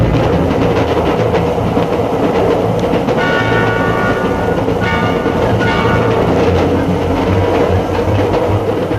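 A train rumbles past steadily and loudly, with a continuous low roar and faint rhythmic clatter from the wheels throughout.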